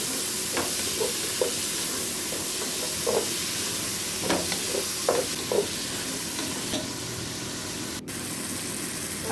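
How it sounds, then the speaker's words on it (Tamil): Onions and tomatoes sautéing in a pan for a vegetable kurma, a steady sizzling hiss with occasional spatula scrapes and stirring clicks, close and constant throughout. "நம்ம வெங்காயத்தை இன்னும் கொஞ்சம் நேரம் வதக்கிக்கலாம்"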